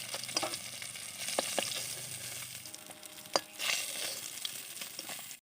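Rohu fish frying in oil in a kadai: a soft, continuous sizzle close by, broken by a few sharp clinks and scrapes of a utensil, with no voices.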